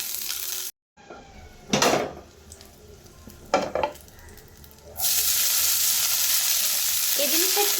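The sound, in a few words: rice being fried in a little oil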